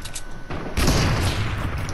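A sharp, booming sniper rifle shot in Fortnite, heard after a few faint clicks and followed by a loud, lingering blast and rumbling echo.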